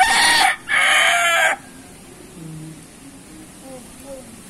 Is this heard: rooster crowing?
yes